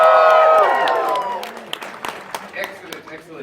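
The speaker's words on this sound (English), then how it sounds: "So I need to hear another round of cheering to warm things up." Convention panel audience at Ponyville Ciderfest 2019 erupts in loud cheering and whoops at first, then fades into scattered clapping and crowd murmur.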